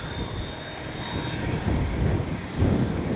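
FMS 70mm A-10 Thunderbolt II V2 radio-controlled jet with electric ducted fans, flying a pass with its landing gear down: a steady rushing whine that swells louder as it nears, with no talk.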